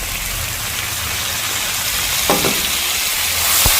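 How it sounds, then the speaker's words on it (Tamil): Ginger paste sautéing with onion and chili in a hot pan gives a steady, close, rain-like sizzle, with a few louder crackles and spatters toward the end. "இஞ்சி பேஸ்ட்டு கொஞ்சம் வதங்கி கொண்டு வரட்டும்"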